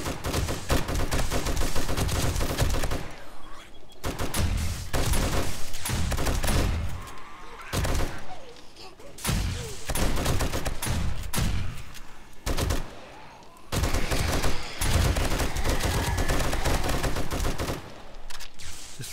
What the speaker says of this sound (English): The friggin' shotgun turret's handling most shit over here.